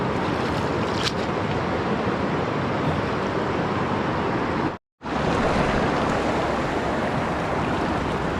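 Steady, dense rush of river water roars loud and close without a break, a continuous wash of noise broken only by a brief moment of silence midway.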